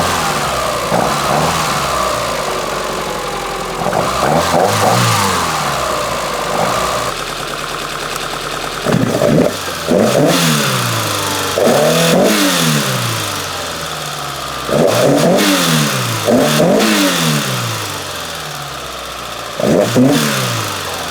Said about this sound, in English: It likes to rev.